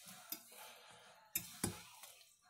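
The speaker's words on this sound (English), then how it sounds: "Give it a good mixing. You can kind of tear these dumplings as you go." Chicken and dumplings stirred in a Crock-Pot, a spoon scraping and knocking against the pot with a few sharp clinks and soft wet mixing sounds, fairly close, with no talking.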